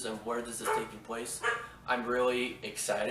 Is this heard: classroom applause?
no